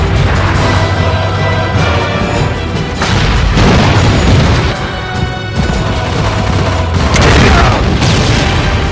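Explosions and gunfire in Battlefield 2142 as a Battle Walker is destroyed: loud, dense booms and crashes with rattling shots, several heavy blasts rolling through the mix almost without pause.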